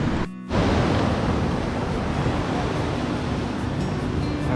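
Ocean waves surge along the rugged Lost Coast Trail shoreline, a loud, steady roar of surf mixed with wind buffeting the microphone, briefly dipping before swelling back.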